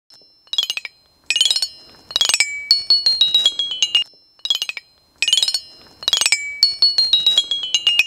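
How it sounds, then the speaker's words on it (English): A xylophone played in short bright runs of struck bars, ringing notes in two repeated phrases separated by brief pauses, close and alone. "That is our xylophone."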